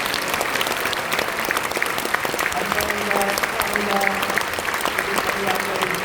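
Warm, continuous applause from a church assembly greeting newly ordained pastors, many hands clapping steadily throughout, with a voice briefly speaking over it midway and some crowd murmur underneath.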